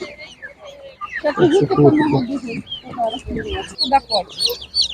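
Chickens and chicks at a village animal market in Ukraine cluck and cheep in bursts. Several birds sound close and fairly loud, with market chatter mixed in.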